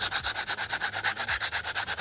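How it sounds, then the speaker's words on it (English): Rhythmic hand sanding on a TIE pilot chest box prop, quick even back-and-forth strokes, about eight per second, close and loud with no talk. "There's a little bit more sanding to be done to make it fit better."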